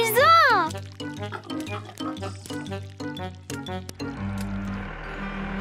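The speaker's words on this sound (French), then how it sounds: "Les cochons se baignaient dans la boue." Cartoon piglets squeal and oink while splashing in mud, high-pitched grunts and wet squishes arriving in quick bursts over a bouncy music bed, followed by a lower, steadier stretch.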